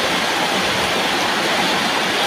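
Heavy rain pours down on a farm field, a dense, steady hiss with no let-up, loud and close, with no voices.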